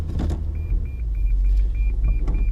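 Inside a Lexus IS250 as it sets off, a steady low engine hum runs under a string of regular electronic chimes and some brief mechanical clicks near the start.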